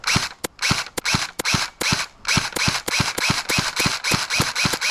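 Cheap airsoft gun firing a rapid string of mechanical snaps, each shot a crisp clack, close and loud, with brief pauses between bursts.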